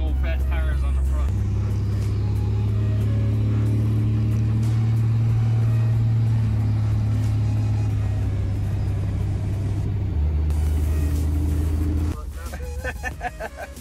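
A D&J powerplant engine runs steadily on its first drive, a loud, continuous low rumble with a shift in pitch partway through before easing off near the end.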